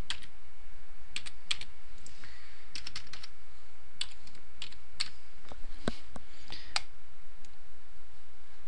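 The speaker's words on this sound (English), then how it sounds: "So we should go ahead and type that in." Steady close typing on a computer keyboard entering data into SPSS, a quick irregular run of crisp plastic key clicks with brief pauses, heard alone.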